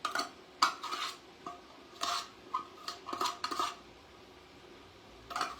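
Ingredients for a creamy tuna casserole with cabbage and peppers are stirred in a skillet that is not yet hot. A utensil gives soft, irregular scrapes and clinks against the pan, fairly quiet, with no voices.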